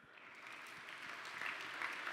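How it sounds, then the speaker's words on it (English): Faint, steady applause from a hackathon opening ceremony crowd, a soft wash of many hands clapping at a distance that builds slightly over a couple of seconds. "So can I have a round of applause for Gemini?"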